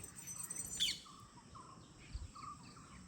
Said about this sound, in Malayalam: ആ കരയുന്ന കിളിയാണ് പച്ചക്കിളി